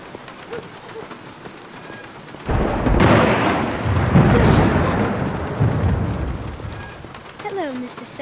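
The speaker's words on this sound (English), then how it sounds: "Are you counting the thunder?" Thunder rolls in during rain, a heavy rumble swelling suddenly and lingering loudly over steady rainfall, then fading as a voice starts speaking near the end.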